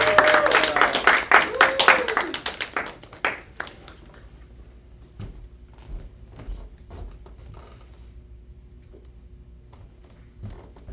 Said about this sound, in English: So let's all go ahead and start clapping, and he's going to come up.